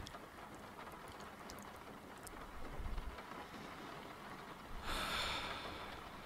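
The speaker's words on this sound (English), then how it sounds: "The rain sounds, I mean. And how it's pouring down on the windshield." Soft, steady rain patters against a car windshield, with a dense hiss of drops and a brief louder splashing gust near the end.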